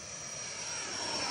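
A small airplane passing overhead in a flyby, a steady broad engine and propeller roar that swells slightly louder toward the end, heard alone without talk.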